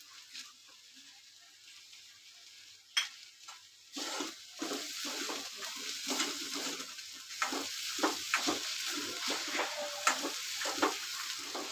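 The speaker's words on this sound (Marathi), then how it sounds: "हे बघा, पूर्ण मसाला मिक्स करून घेतला" Masala stirred into a quick onion vegetable dish cooking in a pan, with a steady sizzle under repeated scraping strokes, close and alone after a quieter start.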